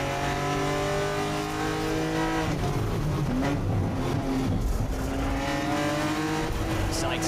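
Onboard sound of a GT4 race car climbing through a turn at Road America, with a loud, steady engine drone shifting pitch as it accelerates, heard under race commentary.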